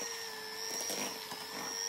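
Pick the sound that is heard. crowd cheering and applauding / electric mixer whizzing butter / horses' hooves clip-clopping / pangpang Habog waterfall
electric mixer whizzing butter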